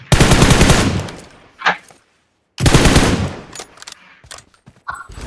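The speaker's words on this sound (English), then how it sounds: "Why are you shooting?" Loud bursts of automatic gunfire from PUBG Mobile gameplay: two long rapid volleys separated by a brief silence, followed by scattered single shots close up.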